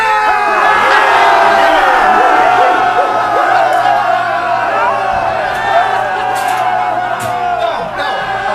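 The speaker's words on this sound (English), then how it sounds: "audience, come on, cheer me on. Just uproar." A crowd erupts in loud whooping, yelling and cheering, a sustained raucous uproar with overlapping shouting voices that stays near and intense throughout before easing slightly at the end.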